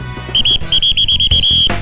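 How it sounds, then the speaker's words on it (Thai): A whistle blown to signal workers to start picking tea on a plantation, heard as a series of short, loud, piercing blasts in quick rhythm over background noise. "ซึ่งทันทีที่สิ้นเสียงนกหวีดนั่นเป็นสัญญาณเพื่อบ่งบอกว่า ได้เว ลาแล้วที่พวกเขาจะต้องเริ่มภารกิจของเช้าวันนี้"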